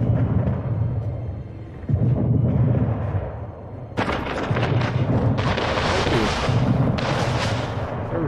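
Naval cannon fire on ships in Anno 1800, a series of heavy, booming blasts and explosions that roll on loudly through the whole stretch, growing denser and brighter in the second half.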